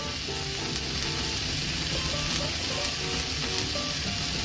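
Green chillies and chilli flakes frying in a pan, giving a steady, close sizzle with light crackling throughout and no voices.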